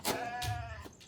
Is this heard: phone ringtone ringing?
no